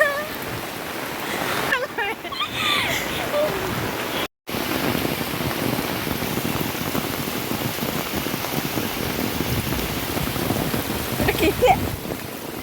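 Heavy, dense rain with strong wind roars steadily with gusty noise, briefly dropping out once, and faint voices occasionally audible beneath.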